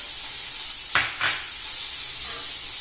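Butter melts in a pan for a tarragon lemon beurre blanc, giving a steady soft sizzle and hiss with two brief scraping strokes of a whisk near the start.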